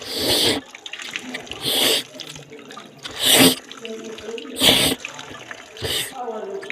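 Water runs from a tap at the shrine of Moulay Idriss Zerhoun in bursts of splashing flow that start and stop about every second or so, close by, with someone talking in between.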